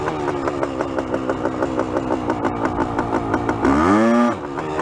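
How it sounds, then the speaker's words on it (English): A 1973 Yamaha Enduro 175 motorcycle engine putters in a rapid, even two-stroke rhythm, then rises sharply in one quick rev and falls back, loud and close. "Watch when I rev it up."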